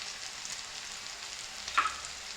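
Vegetables for bhogichi bhaji sizzle steadily in a pan with peanut powder and coriander, a continuous close hiss with a brief stir or clink near the end and no talking.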